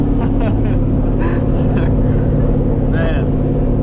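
Cammed LS V8 in a Z28 Camaro heard from inside while driving: a loud, steady, rumbling drone with a choppy idle-like lope that runs the whole time, without clear rises or drops in revs.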